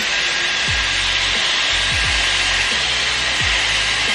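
A Dyson hair dryer runs at close range, a loud, steady broadband rushing whoosh with a few low thumps from handling underneath.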